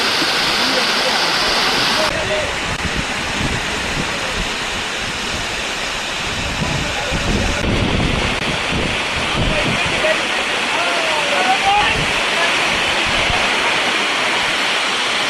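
A forest waterfall near Thrissur roars steadily through rain, a dense continuous wash of falling water with gusts of wind buffeting the microphone and faint voices beneath.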